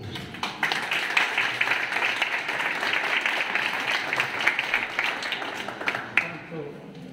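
Audience applause at a community event, steady clapping from a crowd lasting several seconds with a brief louder burst near the end, at moderate level.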